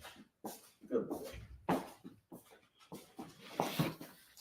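An excited dog whimpers and pants indoors in short, uneven bursts close by, with a person talking over the sounds.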